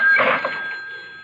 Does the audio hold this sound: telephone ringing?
yes